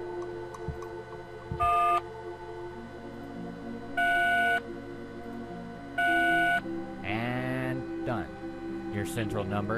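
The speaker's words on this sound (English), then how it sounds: "Beep." Three short electronic beeps, each a steady tone lasting about half a second, sound at even intervals amid a game scene from Darkestville Castle, with background music and a voice-like sound following.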